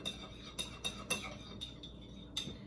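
A spoon stirring sugar into a homemade pie sauce gives about six light, sharp clinks against the dish, spaced unevenly over a soft, quiet background.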